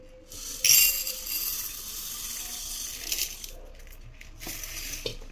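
Lentils for puran poli being washed in water in a kitchen: a sharp metallic clink, then steady running and swishing water with splashes and small knocks, close by and fairly quiet.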